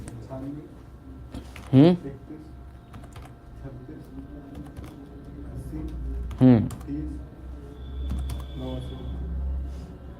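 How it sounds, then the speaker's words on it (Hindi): An Aadhaar number is typed on a computer keyboard, with light, scattered key clicks running under someone speaking Hindi in two short bursts. "यहाँ आधार नंबर टाइप करो"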